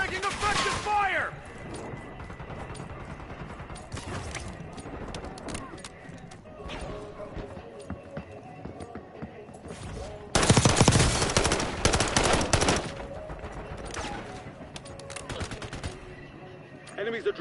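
Automatic gunfire rattles through a Call of Duty Warzone match, with steady bursts under game voices and a louder, dense volley in the middle before easing back.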